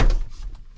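Rear door of a van, insulated for sub-zero use, gives a single close thunk at the start, followed by a short fading rattle.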